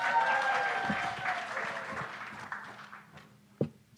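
Audience applause at a city Nerd Nite talk on water, a dense wash of clapping that starts loud and gradually thins out, with a few sharp isolated claps near the end.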